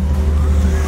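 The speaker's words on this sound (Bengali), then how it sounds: "একটার পর একটা পুলিশের গাড়ি।" Police cars pass one after another on a road flyover, giving a brief, steady low engine rumble and road hum at close range.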